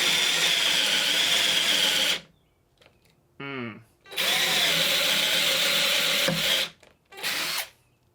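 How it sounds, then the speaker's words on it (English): A cheap drill boring a 3/8-inch hole with a spade bit in loud sustained runs, stopping twice, with a brief whining spin-up between runs and no talk. "We're gonna drill a 3/8 hole with a spade bit."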